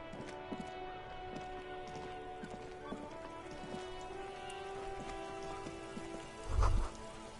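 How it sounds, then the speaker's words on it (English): Rain falls on a city in the video game Disco Elysium, a steady soft patter with scattered drips and splashes, faint and continuous, with one brief low thud near the end and no talking. "Rain drips from the eaves and floods the gutters, washing the filth away."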